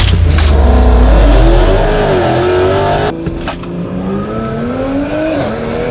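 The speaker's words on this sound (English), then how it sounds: "In today's video, we're drag racing my Tesla Model 3 Performance against a Toyota Supra" Drag race between a 2023 Tesla Model 3 Performance and a Toyota Supra: a loud, close engine roar climbs in pitch, breaks at a gear change, then climbs again, with no talking.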